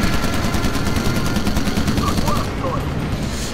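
Sustained machine gun fire from the WWII shooter Call of Duty: United Offensive, a dense continuous rattle of rapid shots held at steady loudness throughout, with someone talking over the gameplay.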